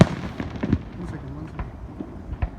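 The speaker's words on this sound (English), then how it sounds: "Outro fireworks." Fourth of July fireworks bursting outdoors in a quick cluster of sharp pops and bangs, with voices chattering underneath.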